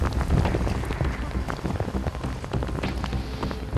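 Heavy rain pours down in the mountains of Shangri-La, Yunnan, as matsutake mushroom pickers keep working, a dense, steady hiss of drops drumming on surfaces close by with no letup.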